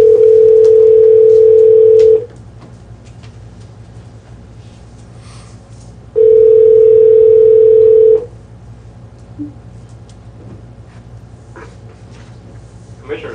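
A telephone dial tone plays loud and close over a speakerphone line, a steady hum lasting about two seconds, then silence, then a second identical burst, with faint room noise between the bursts.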